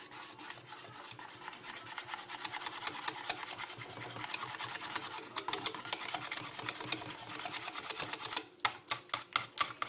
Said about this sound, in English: So we're just going to slowly mix this through.